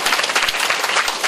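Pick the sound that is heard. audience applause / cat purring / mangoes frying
audience applause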